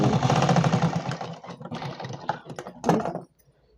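Domestic sewing machine stitching petticoat fabric, a dense mechanical whirr that runs steadily, then breaks into short stuttering bursts before cutting out near the end.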